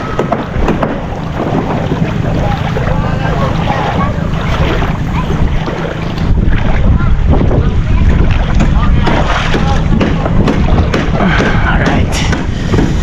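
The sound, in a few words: boat ride at Little Boracay, Calatagan, Batangas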